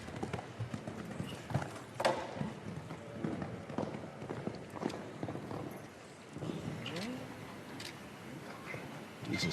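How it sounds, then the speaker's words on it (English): Hooves of a ten-year-old gelding at a 160 cm show jumping Grand Prix Hermès in France, 2022: a steady clip-clop of cantering strides on arena footing, fairly close, with faint crowd and arena ambience behind. "Blood Diamond, his 10-year-old gelding, the horse that he hopes will take him to the moment of supreme glory"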